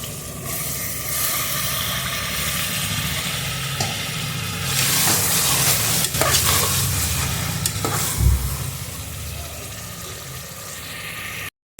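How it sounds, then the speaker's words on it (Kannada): Tomatoes fry and get stirred in a pan while cooking kushka rice, a steady sizzle with scraping spoon strokes and a brief louder clatter near the end, close and continuous with no talking. "ಇದು ಸ್ವಲ್ಪ ಚೆನ್ನಾಗಿ ಫ್ರೈ ಆಗಬೇಕು. ಟೊಮೊಟೊ ಇನ್ನೂ ಸ್ವಲ್ಪ ಹಾಕ್ತೀನಿ"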